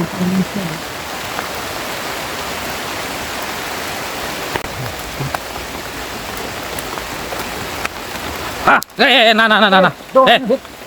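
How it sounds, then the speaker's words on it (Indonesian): Rain falling outdoors, a steady broadband wash of drops that runs loud and even for most of the stretch before people start talking over it near the end. "Jadi di luar hujan yang baik."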